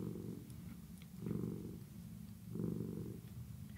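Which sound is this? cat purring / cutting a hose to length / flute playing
cat purring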